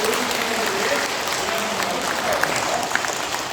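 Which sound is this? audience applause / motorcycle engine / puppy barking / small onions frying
audience applause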